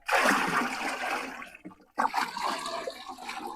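A liquid mixture of decomposer and molasses is poured out for making a root- and shoot-stimulating fertilizer, a close gushing splash with a brief pause before the flow resumes, with no talking.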